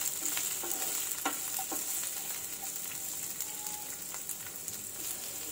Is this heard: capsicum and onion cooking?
yes